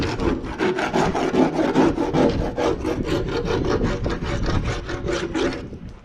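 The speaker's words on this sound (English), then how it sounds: "Scrape all the glue off." Old glue being scraped off a floor while replacing carpet with vinyl, heard as a steady, loud run of rapid rasping strokes close by, continuous for several seconds with no talking.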